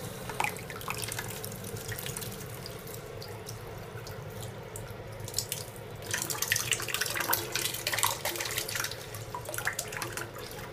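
A 6VDC mini pump runs submerged in water, giving a steady low churning hum with continuous bubbling and splashing water noise, growing somewhat louder and busier in the second half.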